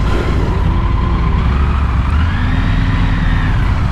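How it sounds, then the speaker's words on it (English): A Triumph Tiger 900 Rally Pro motorcycle idles on a city street, its engine giving a steady, loud, low rumble that runs unbroken throughout. "it sounds exactly like a V twin even at idle"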